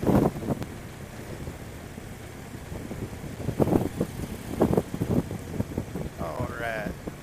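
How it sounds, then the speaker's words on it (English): Wind blowing hard off an open field, a steady gusty rush buffeting the microphone throughout, with a few brief louder surges. "that wind's coming off that field"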